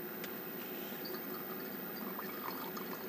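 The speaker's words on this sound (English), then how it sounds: "Okay, here goes my water." Water poured steadily into a container for about three seconds, a continuous soft splashing, moderately faint, with no talking over it.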